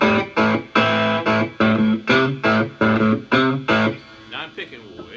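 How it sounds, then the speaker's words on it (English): A cigar box guitar played through light distortion rings out in a series of loud, sustained strummed chords with a steady rhythm, then gives way to a few quieter picked notes near the bridge. "I'm going to turn on my distortion just a little bit to really emphasize this."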